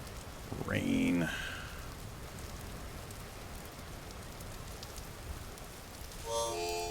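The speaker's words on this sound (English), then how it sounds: "Rain." Continuous light rainfall in the survival game Vintage Story hisses evenly throughout, with a short spoken word near the start and another voice briefly at the end.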